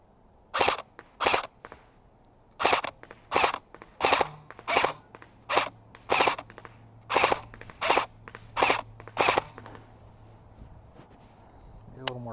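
CYMA 048 AKM airsoft rifle upgraded by SWIT firing full auto outdoors, a dozen short sharp bursts in steady rhythm, close and crisp, then falling quiet.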